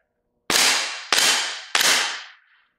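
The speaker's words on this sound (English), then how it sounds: "We have to shoot all of them for them to reset." A KWA Adaptive Training Pistol fires three loud, evenly spaced shots at steel plate targets, each sharp crack trailing off in a ringing decay before silence.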